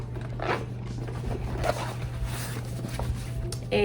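Zipper on a pocket inside a tote bag being pulled, a few soft close scratchy zips over a low steady hum.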